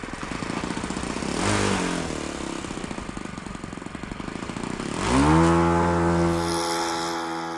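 A Saito 100 four-stroke model airplane engine with a single-blade prop runs nearby with a steady idle, then opens up to a louder, higher-pitched throttle run that holds.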